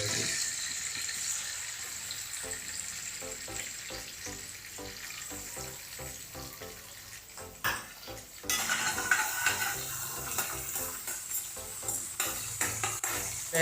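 Paneer frying in a pan at home, a steady close sizzle with rhythmic stirring scrapes and clinks of a utensil against the pan, louder bursts of crackling near the end.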